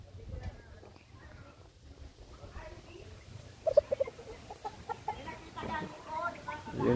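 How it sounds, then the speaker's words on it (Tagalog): Fighting roosters and chickens kept in a backyard, with scattered clucks and a few louder calls rising over constant background noise and talk nearby. "Ayan yung mga pangsabong niya na manok dito"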